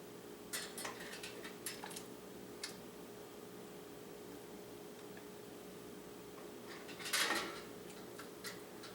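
Glass canning jars of oven-roasted marinara lifted by the neck out of a water bath canner, giving scattered glassy clinks and knocks with a louder clatter of jar against metal near the end, no talking.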